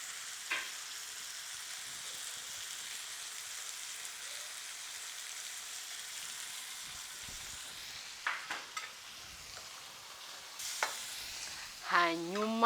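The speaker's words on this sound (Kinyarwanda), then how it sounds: "Ubu tugiye gutangira kurunga." Meat stir-fried in a pan with light soy sauce and oyster sauce gives a steady close sizzle with stirring scrapes throughout, and a few sharper utensil clatters near the end.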